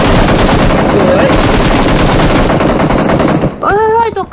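Rapid automatic gunfire from PUBG Mobile gameplay, loud and close, in a dense unbroken burst that stops abruptly near the end, where a voice briefly takes over.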